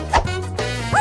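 A puppy gives two or three short, high yipping barks close by, separated by brief pauses.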